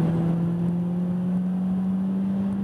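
Peugeot 208 GTi 30th exhaust at steady cruise on a track circuit, a constant low drone with a fixed tone held evenly throughout, moderately loud and unbroken, no voices.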